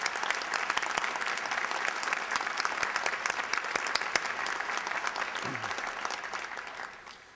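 A crowd applauds at a university presidential inauguration ceremony, sustained clapping from a large audience with crisp individual claps on top, fading out toward the end.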